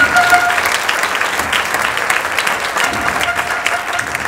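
A theater audience at a Spanish comedy show claps loudly and steadily, dense applause filling the room without pause.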